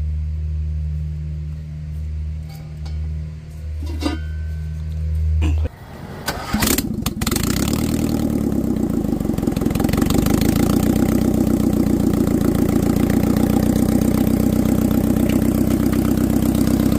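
A motorcycle fitted with homemade straight-pipe exhaust headers cranks, catches and settles into a loud, raw, rapid idle, close up after a few seconds of low background hum.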